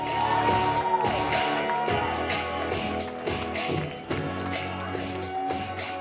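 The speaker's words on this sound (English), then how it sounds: "a round of applause for Badou Jack the Ripper" Crowd at a boxing weigh-in applauding and cheering, loud and continuous, with music and voices mixed through the noise.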